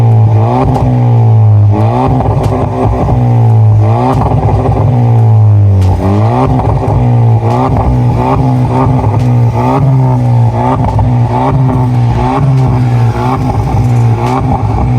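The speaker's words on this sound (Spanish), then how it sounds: "escuchar rugir estos motores, y sé que en este Audi les va a encantar por la modificación que tiene en su tubería" A 2020 Audi A3 Sportback with a 1.2-litre turbo engine, S tronic gearbox and modified exhaust revs repeatedly, its loud tone rising and falling in quick bursts while the car stands still, with no voices.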